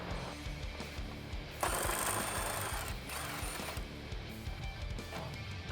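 A ratchet with a 10 mm socket turns the bolt on the heat shield of a 2015-2017 Ford Mustang EcoBoost, a quiet, rapid clicking pattern close by with a brief louder rustle midway, no talk.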